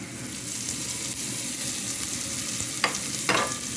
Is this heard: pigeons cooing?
no